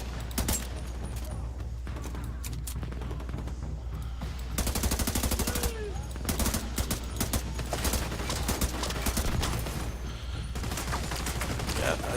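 Video game gunfire in The Division 2, with dense bursts of automatic weapon fire and scattered shots rattling steadily over a low rumbling background while a player talks throughout.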